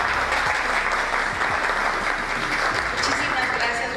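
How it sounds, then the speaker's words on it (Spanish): Dense, steady audience applause fills an award ceremony hall in Mexico, loud and continuous throughout, with faint voices underneath. "Fuerte el aplauso para Blanca Adriana Robledo."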